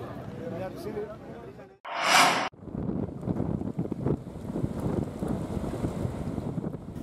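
Stormy coastal wind and rain lash the shore at Lampu 1 beach in Merauke, Papua, where fishermen's boats lie moored; steady roaring gusts and rushing water fill the scene, with a voice at the start and a loud wind buffet on the microphone.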